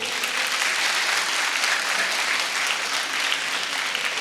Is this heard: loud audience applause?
yes